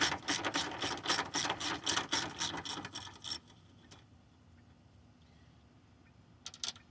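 A ratchet clicks in rapid, close bursts while backing out radiator bracket screws on a 1990 Honda Accord, stopping after about three seconds; quiet follows, then a brief final burst of clicks.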